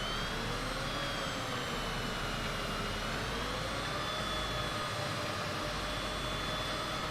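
A Cessna Citation CJ4 business jet taxies toward the runway in a flight simulator, its engines holding a steady, loud whine and rumble with high tonal hums that drift gently, with no talking.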